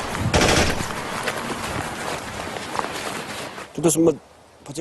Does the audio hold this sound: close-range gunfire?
yes